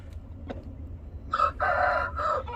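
A rooster crows close by, a single drawn-out call in several segments rising over a low steady background hum, with a faint click or two just before it.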